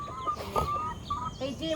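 Backyard hens cluck close by in short, tonal calls that rise and fall, with a faint voice in the background.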